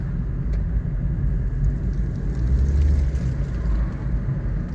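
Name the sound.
Nissan Versa engine running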